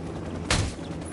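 A single burst of video game gunfire rings out loud and sharp for a fraction of a second, following a low, steady background rumble.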